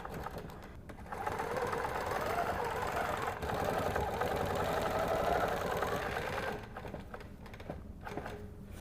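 A sewing machine stitches fabric with yellow thread in a steady, continuous whir that runs for several seconds at moderate loudness before easing off.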